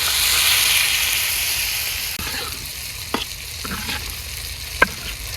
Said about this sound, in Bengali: হালিম রান্নার লেগে যে মশলা কষাইছি আমি